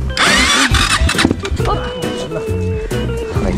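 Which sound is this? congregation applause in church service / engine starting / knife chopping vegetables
engine starting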